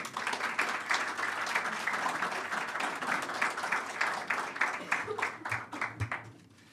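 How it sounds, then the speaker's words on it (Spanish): A conference audience applauds as a speaker is welcomed onto the stage: sustained, dense clapping from a crowd, steady and fairly loud, thinning into scattered claps toward the end. "Con este aplauso lo recibimos."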